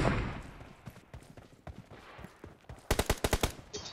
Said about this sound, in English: इतना खतरनाक शॉट मैंने मारा है ना.